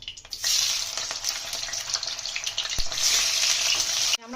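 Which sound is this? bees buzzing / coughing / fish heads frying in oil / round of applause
fish heads frying in oil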